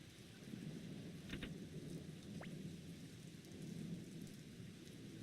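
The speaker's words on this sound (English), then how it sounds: "Listen to that rain effect." A rain effect from the Sega Saturn video game Gensosuikoden plays as a steady, even rain hiss with a low rumbling layer and a couple of faint brief tones, with no voices.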